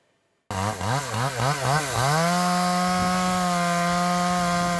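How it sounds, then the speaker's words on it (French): A chainsaw carves a wooden sculpture: after a moment of silence the saw bursts in loud and close, revving in several quick pulses before settling into a steady, sustained high whine as it cuts the wood, with no voices. "il a choisi de tailler directement ses œuvres dans le bois avec sa tronçonneuse"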